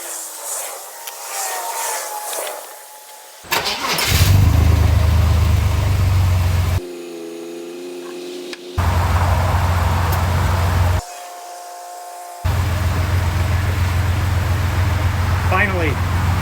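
2000 Chevrolet Blazer ZR2 truck engine cranks, starts and runs, a low idling rumble that cuts in and out between quiet gaps, with a person talking at times.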